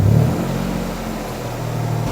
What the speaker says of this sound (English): Can you go rev the engine just a little bit?